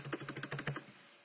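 Quick typing on a computer keyboard: about ten crisp, close key clicks in a rapid burst lasting under a second, then quiet.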